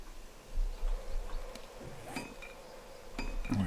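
Bees buzz around a beehive in the survival game 7 Days to Die, a steady insect hum at moderate level with a few faint clinks and game sounds scattered over it.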